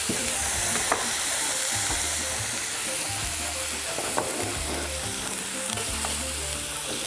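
Shallots frying in a hot pan, a continuous broad sizzle and hiss throughout with occasional light scrapes and ticks, close and fairly loud.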